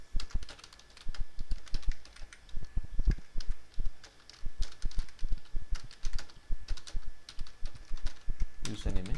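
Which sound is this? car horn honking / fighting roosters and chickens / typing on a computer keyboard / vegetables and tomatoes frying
typing on a computer keyboard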